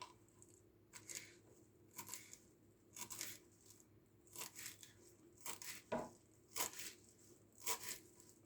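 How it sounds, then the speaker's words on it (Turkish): Knife chopping fresh parsley on a board, a steady run of soft, crisp, evenly spaced cuts close up, fairly quiet and without voices. "Güzel bir şekilde maydanozumuzu doğruyoruz"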